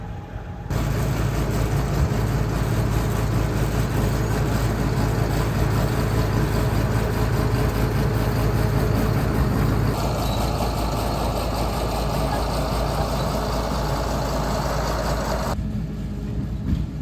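A bulldozer's diesel engine runs steadily and loudly at close range, its deep low rumble continuous for most of the stretch before cutting off near the end, with no talking over it.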